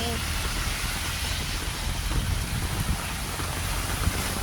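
Heavy rain pours down in Hong Kong, a dense steady hiss of drops drumming on surfaces, close and constant, with faint rumbling underneath.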